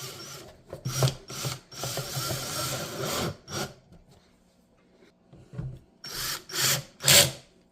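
Screws are driven with a power driver to mount a YakAttack ShortStack onto a kayak, giving several short whirring bursts with pauses between them, close and fairly quiet, with some rubbing and handling noises.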